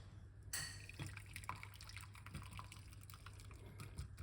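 Tea brewed for high blood pressure is poured out in a home kitchen, giving a sudden splash and then a steady trickle with dripping that carries on to the end, faint and with no one talking.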